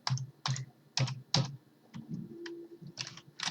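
Keys clack on a computer keyboard as a login and password are typed, close and quiet, with bursts of taps arriving in an uneven rhythm.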